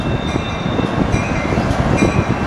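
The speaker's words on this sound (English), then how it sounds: "The train passes quite frequently below us." A freight train rolls through an active rail yard below the listener, a loud, continuous rumble of wagons and wheels with faint clicking and metallic squeal, steady throughout.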